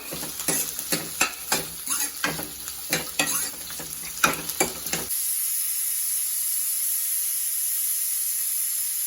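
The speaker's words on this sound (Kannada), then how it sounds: "ಇದಿಷ್ಟು ಹಾಕೊಂಡು ಚೆನ್ನಾಗಿ ಫ್ರೈ ಮಾಡಿ ಒಂದು ಫೈವ್ ಮಿನಿಟ್ಸ್ ಫ್ರೈ ಮಾಡಿ" Ginger, garlic, pepper, cinnamon and cloves fry in a pan for mutton curry, with loud rhythmic stirring scrapes over sizzling oil for about five seconds, then a steady quieter hiss.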